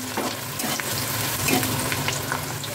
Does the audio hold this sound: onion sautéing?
yes